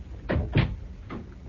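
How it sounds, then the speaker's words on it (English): A wooden door being closed in an old radio drama studio: three quick, muffled knocks and thumps in close succession, near and moderately loud, with no talking. "Ah, Miss Cooper, please come in and close the door"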